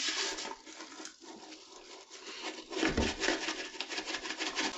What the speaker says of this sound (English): And I'm going to scrub the whole back